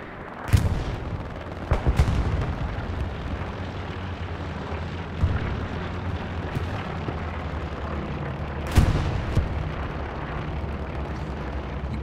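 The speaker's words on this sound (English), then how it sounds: "See FOC's artillery hitting over there right now" Artillery shells landing during a nighttime Foy match in a multiplayer war video game, several sharp booming impacts spaced irregularly over a constant rumbling battlefield backdrop, one especially strong blast standing out among the hits.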